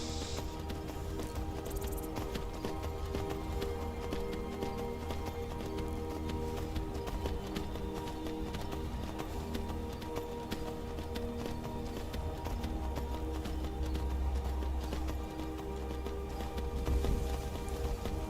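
Horse hooves clip-clop steadily in the open-world video game Skyrim, a continuous rhythmic trot heard at moderate distance over a low ambient game soundscape, with no talk.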